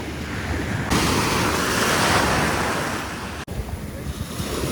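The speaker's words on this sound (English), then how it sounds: "The waves are gonna take them." Ocean waves break and wash onto a beach, a loud broad roar of surf swelling and then easing, with wind buffeting the microphone and no talking.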